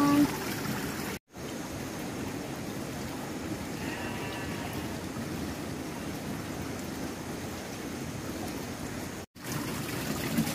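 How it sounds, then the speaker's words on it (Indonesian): Well water from a mountain spring in a remote village flows and trickles steadily, a near, continuous watery wash that runs almost unbroken for about ten seconds, with two brief cuts to silence. "Nah, ini adalah air sumur ya, teman-teman."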